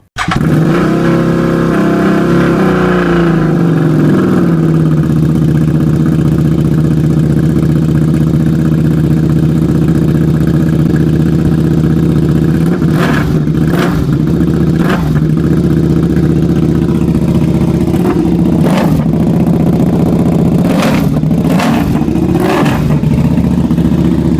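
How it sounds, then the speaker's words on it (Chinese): A loud KTM RC8 sports motorcycle idles with a deep rumbling exhaust, then delivers several sharp throttle blips that rise and fall quickly, close by. "谢谢大家听一下排气声浪"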